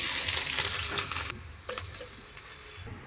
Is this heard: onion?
yes